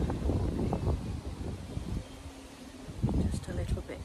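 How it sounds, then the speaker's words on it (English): Strong gusting wind roars and buffets against a microphone outdoors beside a polytunnel, with swaying trees nearby; the blustery rush rises and falls continuously, dipping briefly midway before surging again. "the wind is horrendous"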